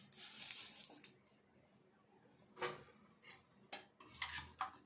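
Oil is spread across a hot dosa pan, giving scraping and smearing strokes of a utensil against the metal surface in short bursts, close and moderately loud.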